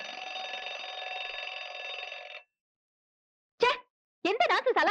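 An alarm clock rings loudly and steadily for about two and a half seconds in a home, then cuts off, followed by brief bursts of voices.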